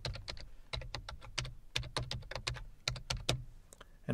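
A PowerShell command is typed on a computer keyboard, about a dozen quiet, close key clicks in quick, uneven bursts with brief pauses between words.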